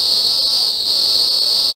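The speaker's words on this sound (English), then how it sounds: "Is exactly the sound a cicada makes." Cicada call in the game Blinky Bill's Ghost Cave, a loud, continuous high-pitched buzzing drone that holds steady for under two seconds and then stops abruptly.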